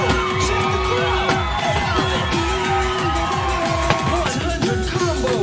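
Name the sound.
crowd cheering in DanceDanceRevolution A20 video game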